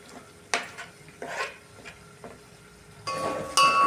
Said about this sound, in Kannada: ಸೊ ನಾನು ಅದಕ್ಕೆ ಕೊತ್ತಂಬರಿ ಸೊಪ್ಪನ್ನು ಒಗ್ಗರಣೆ ಒಳಗಡೆ ಹಾಕ್ತಾಯಿದ್ದೀನಿ.